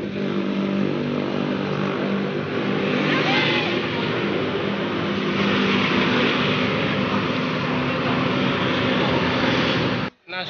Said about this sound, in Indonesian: Nah, mesinnya sudah hidup ya teman-teman